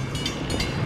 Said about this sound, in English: Here comes another train to watch.